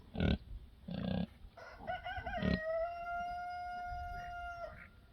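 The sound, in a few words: young rooster learning to crow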